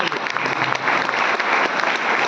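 Dense audience applause at a motivational lecture in Gopalganj, a loud, close wash of many hands clapping together for a couple of seconds.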